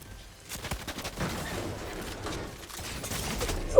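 Shotgun blasts ring out in a battle royale video game, a quick cluster of sharp shots followed by a muffled stretch and a final loud crack, with no talk over them.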